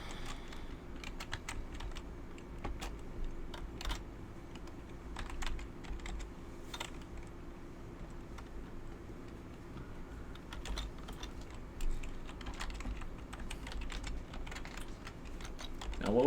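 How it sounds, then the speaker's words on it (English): Rapid clicking keystrokes on a large computer keyboard go on in irregular bursts with short pauses, close to the mic over a low room hum, with occasional faint voices. "Now, what would be a faster way than typing this out?"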